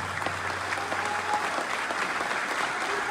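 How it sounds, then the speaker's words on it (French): A large audience claps steadily throughout for Niger's president at a public address, a dense, even wash of applause with no voices on top. "Je vous demande de l'applaudir très fortement,"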